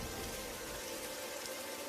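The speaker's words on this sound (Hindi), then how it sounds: "बिरजू और उसका परिवार उस पेड़ के नीचे बैठकर बारिश के रुकने और सुबह होने का इंतजार करते हैं।" Steady rain hissing and pattering on a surface, a continuous wash of drops with no voices.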